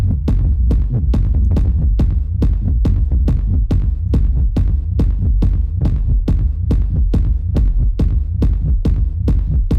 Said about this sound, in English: multiple sine waves playing chromatically and just stacked all at once. It's going to be phasey, it's going to be weird